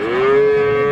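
A Friesian cow at a cattle market in Raniganj, Dinajpur, gives a single loud, close moo under a second long, with no voices over it.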